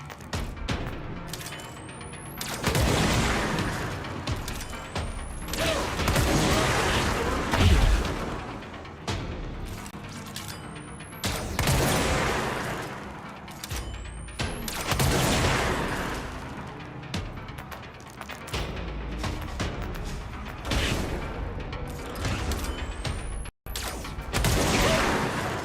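Gunfire and explosions from the video game Control keep up a dense barrage of shots and booms, loud and continuous, with constant mechanical clatter and no break for the whole stretch.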